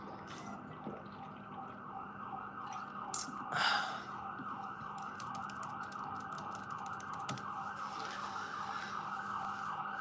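Wailing sirens from passing police cars rise and fall continuously in the distance, with a brief sigh-like breath partway through.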